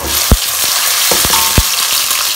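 Onion and chilies frying in a pan, a loud, dense sizzle with a few sharp spits and taps of a spoon against the pan.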